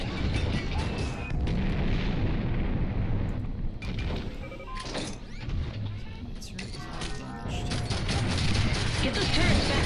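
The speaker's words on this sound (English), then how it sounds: "Lots of turrets flying around, mortars flying around." Mortar and turret fire in the video game Tribes: Vengeance, dense booming blasts and mechanical clatter running continuously and loud, with a voice talking briefly over the battle.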